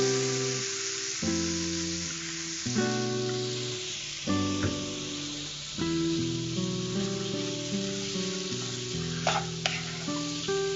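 Small pieces of banana stem cook in a pan, giving a steady soft sizzle and hiss, with no voices.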